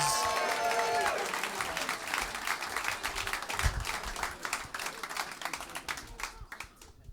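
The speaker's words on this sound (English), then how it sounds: "give a huge round of applause, clap and cheer" A comedy club audience breaks into loud, sustained applause with scattered cheers, the clapping rising quickly and then slowly thinning out toward the end, with a voice heard briefly at the start.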